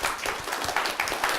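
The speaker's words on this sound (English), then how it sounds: "let's give a warm applause to welcome Professor" An audience at a distinguished lecture applauds to welcome a professor, a brief burst of mixed hand claps with a few sharper individual claps standing out, moderately loud and close.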